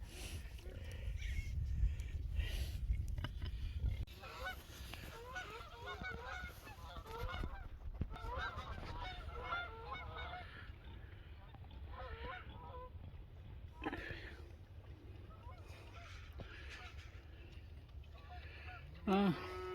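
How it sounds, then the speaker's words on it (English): Geese honk repeatedly from a distance as a flock passes over, with wind and low rumbling background noise throughout. "I was trying to record some geese going over"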